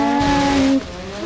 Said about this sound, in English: we're in a rally car